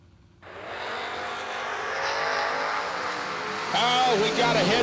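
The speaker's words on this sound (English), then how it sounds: "we got a heads-up drag race, both of them identical as they pass the tree" Two identical drag race cars launch side by side off the line, engines roaring in at once and building loudly, with a tire squeal and rising rev near the end; a voice talks in the background.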